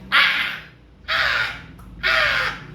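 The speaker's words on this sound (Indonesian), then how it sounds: "Ada suara burung." Three harsh crow caws in an even, slow rhythm, each loud and raspy with short pauses between, close by and alone.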